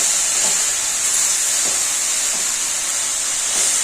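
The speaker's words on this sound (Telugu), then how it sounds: "ఈ ఆవిరి చూడండి, ఈ ఆవిరి వాటరే చాలు." Steam rises from cooking vegetables for a curry, a steady loud close hiss holding throughout with faint soft bubbling underneath and no voices.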